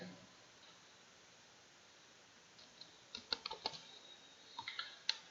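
Faint clicks on a computer keyboard as a formula is typed into Excel, a short irregular burst of keystrokes beginning a few seconds in over low background hiss.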